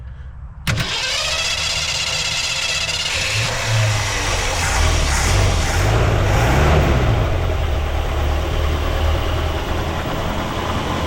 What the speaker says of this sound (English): I've got the carburetor adjusted a little bit and filled up, so she should crank right up